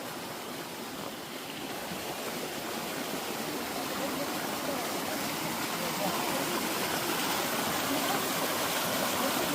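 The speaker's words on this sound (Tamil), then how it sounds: "இந்த காட்டுக்குள்ளே இப்போ இந்த வாட்ரு வந்துக்கிட்டு இருக்கு" A forest stream flows steadily on a hike at the foot of Sirumalai toward a waterfall, its broad, even rushing filling the scene without pause.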